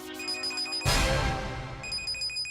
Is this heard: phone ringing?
yes